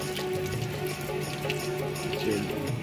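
Water gushing steadily from a pump being primed at a work site, a constant close splashing flow with no pause throughout.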